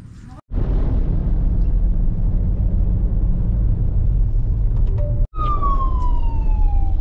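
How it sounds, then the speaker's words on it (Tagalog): A loud vehicle rumble with an ambulance siren wailing in, its tone sweeping downward toward the end, close by. "may ambulansya sa likod"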